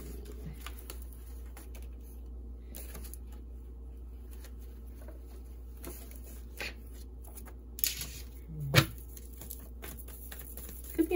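A deck of tarot cards being shuffled during a reading: soft, quiet papery riffling and patter in a calm room, with a few slightly sharper card snaps near the end.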